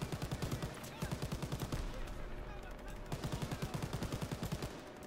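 Machine gun fire rattles in Call of Duty WW2 during an ambush mission, in two rapid sustained bursts separated by a short lull, loud and close.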